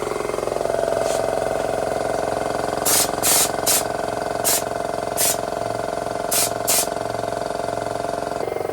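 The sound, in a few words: spraying texture coating on car underside from aerosol can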